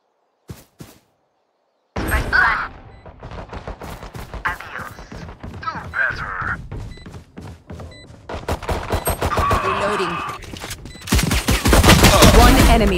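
Gunfire in the video game Valorant: sharp shots and rapid bursts ring out loudly and close over about eleven seconds, growing denser toward the end, with faint voices in between.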